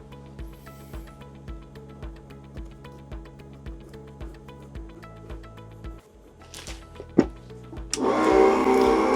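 Craft mini table saw with a blade on balsa wood, a rhythmic pulsing motor whir for several seconds, then a sharp knock and a louder, brighter buzzing as the cut starts.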